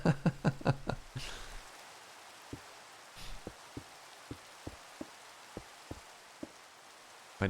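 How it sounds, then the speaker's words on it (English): Rain falling in Minecraft, a steady soft hiss with scattered crisp droplet ticks at a regular pace, preceded by a brief burst of louder rhythmic thumps at the start. "Very hard to see where I'm going in all this rain."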